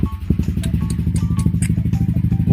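Yamaha Nmax V2 scooter engine idling with a newly fitted JVT V3 exhaust and fresh pipe gasket, a steady low throbbing putter with a quick rhythmic pulse, close and fairly loud, without speech.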